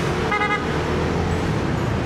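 Road traffic in the Philippines with a short car horn toot near the start, set against a continuous low rumble of passing vehicles.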